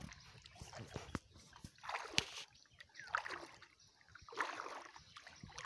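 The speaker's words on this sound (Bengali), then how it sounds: "এই দেখো জলে নামছি" Someone wades into monsoon floodwater, with intermittent splashes and sloshing that rise and fall over a few seconds at close range, faint and uneven, with light background noise.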